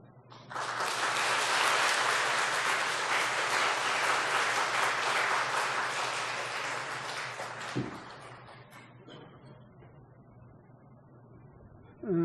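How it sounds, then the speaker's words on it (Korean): Church congregation clapping together during a Sunday service as a gift is handed to young members, a full steady roar of hands that fades after about eight seconds into quiet room noise. "우리 전달할 때 함께 박수하겠습니다."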